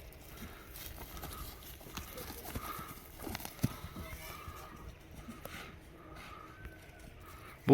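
A horse offered for sale walks on firm ground, its hooves clip-clopping in a steady uneven rhythm at moderate distance, with people talking over it and some background noise.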